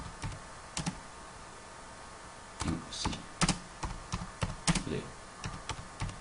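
Someone types a short message on a computer keyboard: scattered clusters of quiet, close key clicks with gaps between them, and a brief spoken word partway through.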